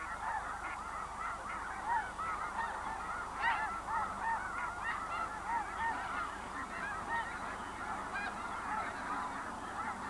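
A flock of sandhill and whooping cranes calls in a wetland, many overlapping honking and bugling notes sounding at a moderate distance over a low steady background.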